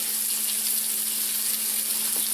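Mushrooms sauté in a frying pan for a Hamburger Helper dinner, a steady close hiss and sizzle holding even throughout with a faint low hum and no voices.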